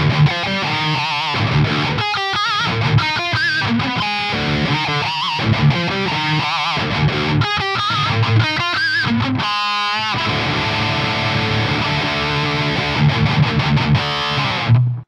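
Joyo Zombie 2 distortion pedal driving an electric guitar through the bridge humbucker, gain set around 11 o'clock: dense, saturated chords and riffs with choppy stops and sustained ringing passages, loud and continuous throughout, no talking.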